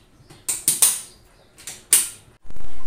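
A kitchen mixer grinder loaded with a water-thinned curry paste for a Malvani fish thali: a few sharp clicks and clacks of the jar being fitted, then the motor abruptly roars up to a loud, steady whir at the end.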